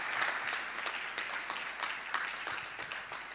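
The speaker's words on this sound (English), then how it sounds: "Let's give a round of applause to our panel." An audience applauds a panel at an innovation and education conference session, continuous clapping from many hands at moderate distance, fairly soft and steady throughout.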